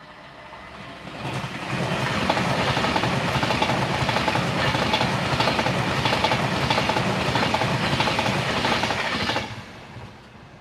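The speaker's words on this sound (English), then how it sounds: "Here comes a Pendolino." A Pendolino high-speed train passes close by, a loud rushing roar that swells in and holds steady with rhythmic wheel clatter before cutting off as the last carriage clears.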